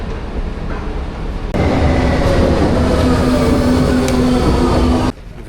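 Train on a Berlin rail line, a steady loud rumble that swells abruptly after a second and a half, holds with a faint tonal whine and clatter, then drops away near the end.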